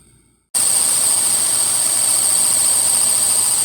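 Tracker car engine coming to life abruptly after a moment of quiet, then idling at a steady, even level with a constant hum and a thin high whine on top.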